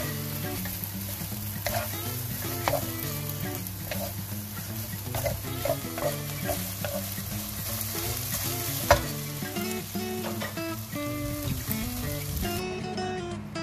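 Cucumber and egg stir-frying in a pan with a steady sizzle and repeated scraping and stirring of a utensil, plus tonal sounds from a nearby appliance or background, continuous and close with no talk.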